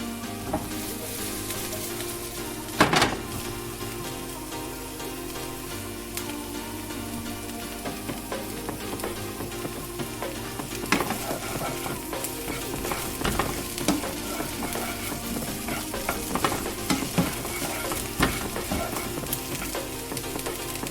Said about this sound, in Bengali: আমি মাছগুলোকে ভালোভাবে উল্টে পাল্টে ভেজে নিচ্ছি